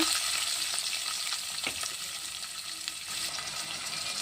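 Finely chopped onion and cloves fry in hot oil in a pan for mutton keema curry, a steady, fairly faint sizzle with occasional light clinks of stirring.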